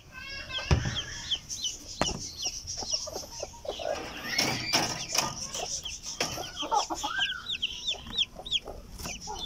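A Silkie hen acting as foster mother to three chicks in a backyard clucks in short repeated bursts while the chicks cheep high and thin around her, fairly close.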